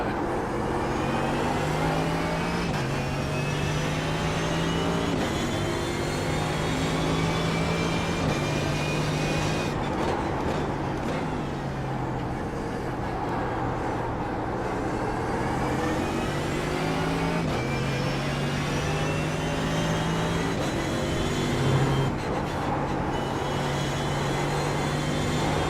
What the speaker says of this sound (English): loud car noises or droning car noises like these set it off quite badly